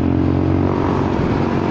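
A Honda Forza 300 scooter with a damaged exhaust runs nearby with a loud, steady, rough drone that stays even throughout, and no voices are heard.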